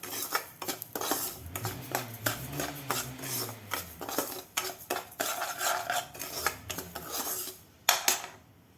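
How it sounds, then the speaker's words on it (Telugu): Coarse red wheat semolina (barisi rava) is dry-roasted in a pan, with a spoon scraping and clinking steadily against the metal in quick, uneven strokes throughout. No one speaks. "ముందు దీన్ని దోరగా వేయించుకుని పక్కన పెట్టుకోవాలి"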